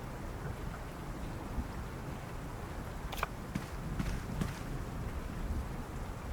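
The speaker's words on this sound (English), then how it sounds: "In a city of endless night and constant rain." Constant rain falling over a city at night in a video game, a steady dense hiss of drops with a few faint sharper taps and splashes standing out midway, no voices.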